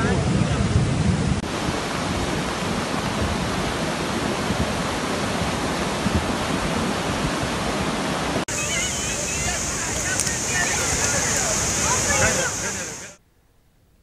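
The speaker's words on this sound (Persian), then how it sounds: "سر کشکول به سمت پلتان میبینی جاده را آب برده" Floodwater pours across a washed-out road after heavy flooding, a loud, continuous broadband roar of rushing water that stays steady throughout and cuts off abruptly at the end.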